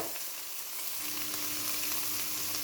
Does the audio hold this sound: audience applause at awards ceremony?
no